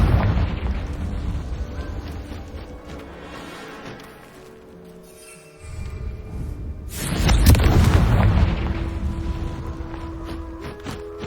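Confringo fire spell exploding in Hogwarts Legacy, a dense rumbling game soundscape that dips into a quieter lull, then bursts into a loud, booming blast with a sustained roar trailing off.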